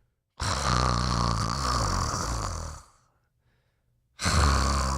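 A person imitates snoring: two loud, rasping snore sounds with a short silent gap between them, close to the listener.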